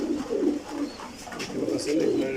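Racing pigeons kept for sale coo in soft, continuous, throaty rolls close at hand, with faint light chirps above.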